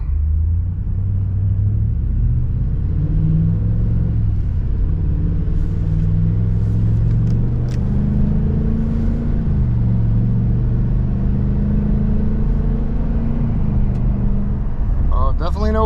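A 2023 Ford F-250 Super Duty pickup accelerates while towing a trailer, its engine rising in a loud, steady cabin-heard drone as the revs climb and shift, with no one speaking over it.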